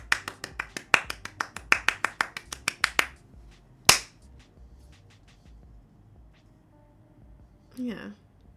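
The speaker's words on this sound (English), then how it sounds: "I will clap for me too." A single person claps their hands alone and close by: a rapid run of about fourteen sharp, even claps over three seconds, then one more crisp clap after a pause, with a brief voice sound near the end.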